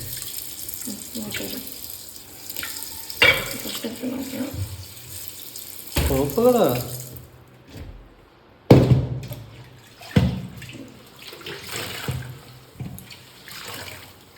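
Tap water gushes into a vessel in stop-start bursts, loud and close, splashing and changing pitch as the flow is turned on and off, with a few brief sounds of handling between the pours.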